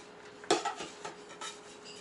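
GSI Bugaboo camp cookware being nested, an 8-inch skillet set down onto the stacked pots and lid with one sharp metallic clank followed by a few lighter rattles and knocks, close and quiet.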